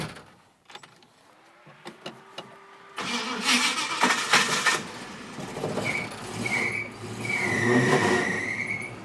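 A 1967 Ford Mustang engine cranks with a few clicks, then catches and roars up loudly, settling into a rough run with a high squealing whine rising over it.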